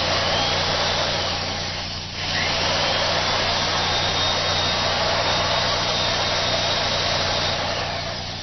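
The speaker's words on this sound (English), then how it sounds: "This is a vacuum cleaner, which has an extremely, extremely high current draw when it is first turned on." A heavy-draw household vacuum cleaner runs off a power inverter with a steady, loud motor whine and broadband rush, dipping briefly near the start and then holding constant and close throughout.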